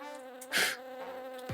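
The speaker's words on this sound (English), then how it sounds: "Should I kill this bee?" A bee buzzing around close by, a steady insect drone with a louder rising swell as it passes near, then fading back to a constant hum.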